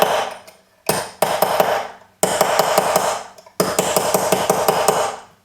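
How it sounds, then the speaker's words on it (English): A metal hollow form ring is struck on a mandrel in several quick bursts of ringing hammer blows, each run of rapid, bright strikes separated by short pauses, close and loud. "So I'm going to hammer this out a little bit more"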